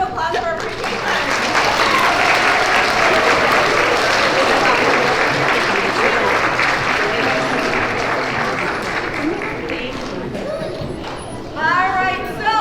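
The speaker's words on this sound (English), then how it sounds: "one more round of applause for our Pre-K-3rd." Loud, sustained applause fills a school assembly hall at a Pre-K to 3rd grade character education event, then slowly fades as voices rise near the end.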